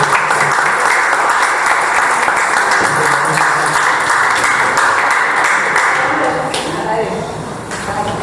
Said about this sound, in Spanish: vamos a dar un fuerte aplauso a los dos.